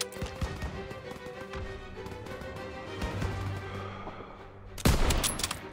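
Gunfire in the WWII shooter Call of Duty: WWII, with rapid bursts and single shots cracking in quick irregular succession, fairly loud, and a sharp louder blast near the end.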